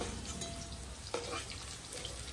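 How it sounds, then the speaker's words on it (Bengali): Potatoes fry in a pan with a faint, steady sizzle and one brief utensil clink in the middle, quiet and short. "আলুটা ভাজা হয়ে গেছে, তুলে নেব।"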